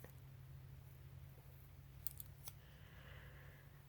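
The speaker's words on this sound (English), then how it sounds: "Let's see if I can get my scissors and kind of cut this excess off here where it's split." Scissors trim excess paper from a split napkin label, giving a few quick, crisp snips near the middle against a steady low hum, fairly faint and with no talking.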